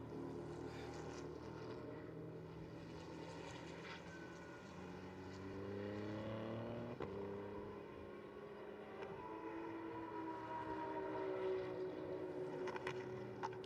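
GT race cars, including a Lamborghini and a slow-moving BMW, pass on the Paul Ricard circuit during a four-hour endurance race, their engines droning and rising and falling steadily in pitch against a continuous roar.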